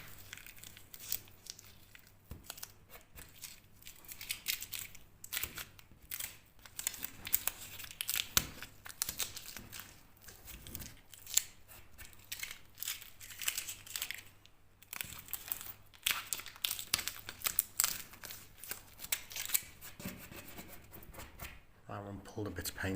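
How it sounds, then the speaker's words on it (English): Masking tape peeled off a freshly repaired ceiling, tearing away flecks of paint: a run of close crinkling, ripping bursts that rise and fall unevenly, with someone talking in stretches between the pulls. "pull the tape off with it"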